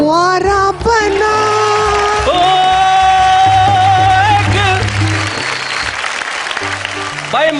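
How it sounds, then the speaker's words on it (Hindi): An audience claps and cheers at a Hindi comedy poetry recital after a parody song about girls mocking boys, the applause mixed with a swelling musical accompaniment. "और बड़ी खुश होकर तालियां बजा रही थी"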